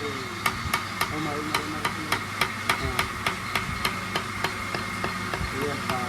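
A hammer rings against the metal body of a tractor during wheel bearing repair, striking in a steady run of sharp, evenly spaced blows with faint voices and background noise beneath.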